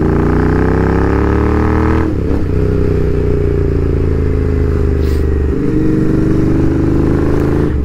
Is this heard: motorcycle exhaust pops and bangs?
yes